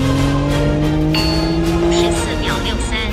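Toyota Supra driven hard on a race track, engine note rising steadily under acceleration toward the finish line, loud and close, with a voice talking over it.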